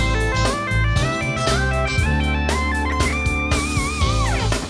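Distorted electric guitar plays pentatonic melodic lines in triplets with bends and vibrato over a steady funky backing groove of bass and drums, loud and continuous.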